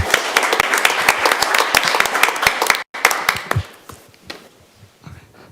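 A small group claps at a school board meeting, a burst of scattered, fairly close hand claps that stops abruptly, then a few lingering claps trail off into quiet.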